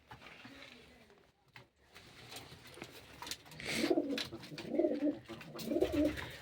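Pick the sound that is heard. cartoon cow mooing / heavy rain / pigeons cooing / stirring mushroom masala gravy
pigeons cooing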